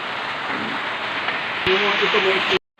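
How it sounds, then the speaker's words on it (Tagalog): Steady rain hisses across the whole clip, broad and continuous, with a voice briefly talking over it near the end before a short silence. "Ayan po, umuulan na."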